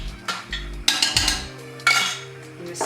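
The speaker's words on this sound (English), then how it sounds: "And stir that in thoroughly." Gravy is stirred into chilli con carne in a pot, giving several distinct metallic clinks and scrapes of a utensil against the pot in an irregular rhythm, close by and moderately loud.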